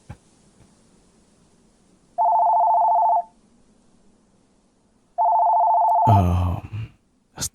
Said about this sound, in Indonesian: Astaga, suara telepon ini lagi.